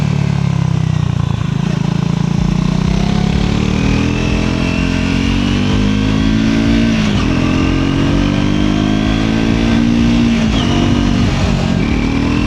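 A Triumph Scrambler 400 XC motorcycle engine revs loud and close while riding, rising and falling through the mid-range in several pulls with gear-change dips, continuous and without talk.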